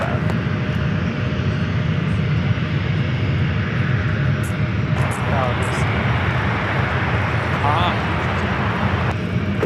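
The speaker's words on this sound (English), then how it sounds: "It's Delta A319 flight heading to Detroit, Michigan, flight 2476" Delta Airbus A319 jet at LAX, its engines giving a loud continuous rumble and roar close by, with people talking over it partway through.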